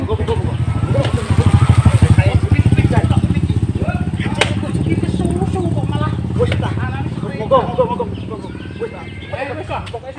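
A nearby motorcycle engine putters with a rapid pulsing rhythm, loudest at first then easing, while people talk over it.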